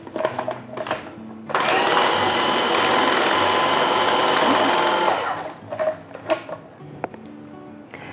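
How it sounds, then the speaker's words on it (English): A food processor whizzes watercress with salt and pepper into a puree, a loud steady motor whir running for about four seconds between quieter handling sounds. "the rest gets put into the food processor along with some salt and pepper. And now I need to whiz this until it's smooth"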